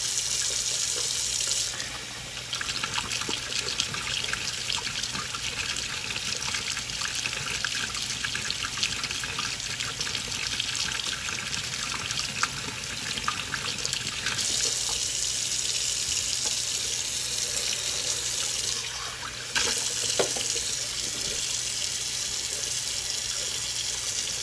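Steady running tap water rinsing a gold button in a sink, a continuous hissing splash lasting over twenty seconds with brief changes as the flow hits the metal and is briefly interrupted.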